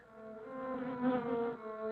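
A cartoonish electronic buzzing drones steadily with a harmonic, insect-like tone, swelling slightly in the middle, with no talking.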